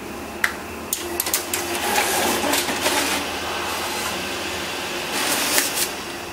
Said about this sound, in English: Now this thing scans these so fast, it's, it's, it's incredible.